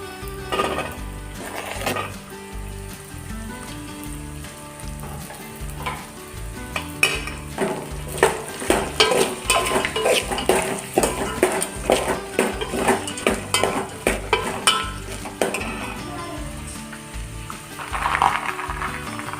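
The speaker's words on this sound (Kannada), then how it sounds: "ಈ ಟೈಮಲ್ಲಿ ನಾನು ಆಲೂಗಡ್ಡೆ, ಬೀನ್ಸು ಮತ್ತು ಕ್ಯಾರೆಟ್ ಹಾಕ್ಕೊಳ್ತಾ ಇದ್ದೀನಿ" Potatoes, beans and carrots sizzle in a pan with softened onions, while a spoon scrapes and clatters against the metal in quick, repeated stirring strokes. The stirring grows louder and busier toward the middle, and no one speaks.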